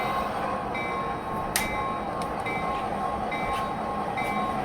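A model train locomotive pulls forward on a layout, giving a steady, close rumbling run with faint clicks and a couple of brief metallic ticks.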